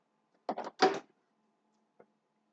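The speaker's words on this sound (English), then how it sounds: "If we open the door," The door of a Sveba Dahlen S-Series combination oven swings open with two quick scraping clunks close by, followed a second later by a faint click.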